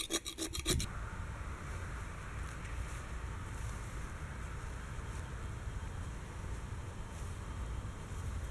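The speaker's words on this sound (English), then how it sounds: "I'm gonna scrape off the big chunks before I wire brush that part." Rust being scraped off the metal front end of a Wheel Horse 401 garden tractor, a steady close rasping scrape that runs almost continuously after a few sharp strokes at the start.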